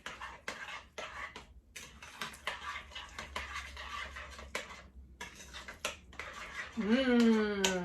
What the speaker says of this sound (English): Take your spoon and mix it up.